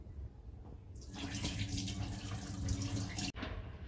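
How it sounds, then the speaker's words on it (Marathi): Water runs from a tap over sago pearls being washed: faint at first, then after about a second a strong steady gush and splash, briefly cut off near the end before resuming. "तर आता हे साबुदाणे ना मी धुवून घेते, पाणी घालून घेते मी"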